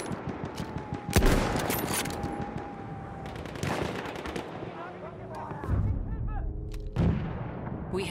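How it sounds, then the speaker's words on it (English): Machine gun fire in a fast online shooter match rattles in dense bursts alongside heavy artillery-like booms and explosions, loud and close, with other distant gunfire layered throughout. "Machine gun over there."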